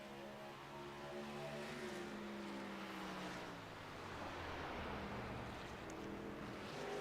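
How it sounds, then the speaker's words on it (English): A race truck in an iRacing game at Iowa Speedway drones with a steady, faint engine tone that shifts pitch through a corner as the engine shuts off, heard alone without talk. "You can hear that truck shut off through the corner"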